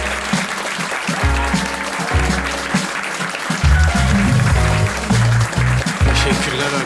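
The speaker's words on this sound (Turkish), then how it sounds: "büyük alkışlarınızla Murat Gençoğlu geliyor." Audience applause at a Turkish stand-up comedy show greets the comedian's entrance, a steady, loud wash of clapping over music with a heavy, pulsing low end.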